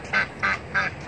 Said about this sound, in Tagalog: Ayun yung itik.